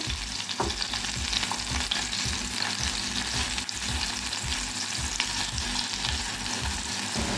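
Stuffed bitter gourds fry in a pan just after being turned, a steady loud sizzle with frequent scraping and stirring clatter throughout, no voices.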